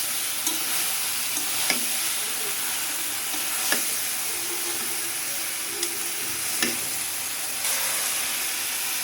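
Jujube and tamarind pickle is stirred in a pan over a steady hissing simmer, with a spoon knocking and scraping the pan every second or two; no voices.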